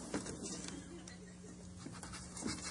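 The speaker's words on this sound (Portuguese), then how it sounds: "Ai, cachorro, cachorro." A dog pants in steady quick breaths close by, with faint scratching and a low background hum, during a lively game show.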